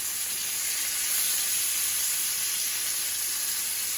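Country pork ribs sear in a hot pan, giving a steady, close sizzling hiss that holds evenly from start to finish with no talking.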